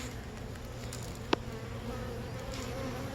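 Honey bees flying back into their hive entrance, a steady low insect hum throughout with one brief sharp click near the middle, no voices.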